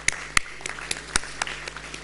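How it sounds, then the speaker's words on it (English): Audience at a seminar's inaugural session claps, a thin scattering of distinct hand claps rather than a full ovation, with sharp separate slaps that thin out toward the end. "Let's give him a big round of applause."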